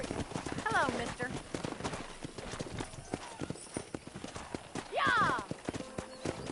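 Wild horses in a cowboy video game pound along with brisk clip-clopping hooves, and two shrill whinnies ring out, one early and one near the end.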